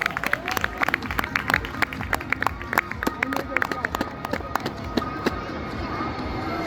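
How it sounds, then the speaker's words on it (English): Applause from parents and spectators at an outdoor kindergarten sports day, with scattered claps mixed into crowd noise and chatter, steady and moderately loud throughout. "please give them a big round of applause."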